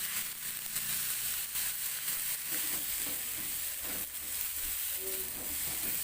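Ground spice paste sautéing in a reduced amount of oil, giving a steady close sizzle and hiss with faint stirring scrapes throughout, no voices.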